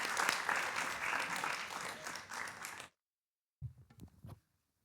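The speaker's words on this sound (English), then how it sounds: "please join me in a round of applause" An audience applauds warmly for a best-selling author, Robert Rotenberg, at a book event, with dense clapping for about three seconds before it cuts out; a few faint thumps and sounds follow after a silence.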